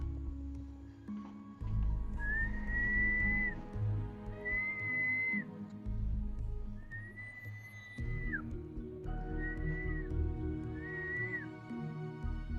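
A person whistles to call a giant eel in Barangay Cagubatan, about five clear, sustained whistle notes repeated with short pauses, heard close over a low background rumble.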